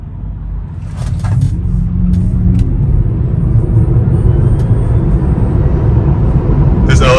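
A Tesla Model 3 LFP pulls away from a red light with a steady low road rumble and faint motor whine that builds as the car gathers speed, with brief voices near the start.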